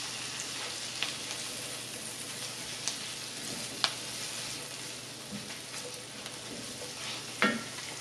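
A chopped medium yellow onion cooks in butter in a pan, making a soft, even sizzle with a few light clinks and scrapes scattered through it. Nobody speaks.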